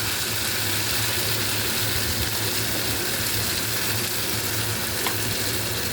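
Fish frying in oil in a pan for a spicy fish curry, giving a steady, dense sizzle that runs unbroken and fairly close throughout, with a faint low hum beneath and no talking.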